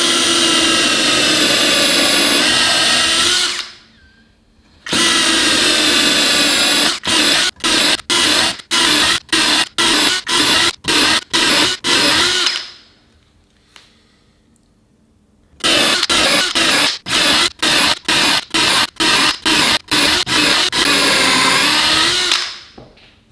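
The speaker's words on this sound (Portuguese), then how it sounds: "Vou pôr o seletor em modo de furação." A Parkside PMBSA 4 A1 cordless drill set to drilling mode with a 4 mm bit whines loudly in long runs, then in a string of quick on-off bursts, its motor stopping and starting sharply.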